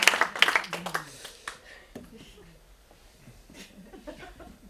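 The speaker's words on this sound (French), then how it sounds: "On peut l'applaudir bien fort, au passage." Audience members clap in a brief round of applause at a humorous live presentation, sharp and close at first and then thinning to scattered claps under a speaking voice.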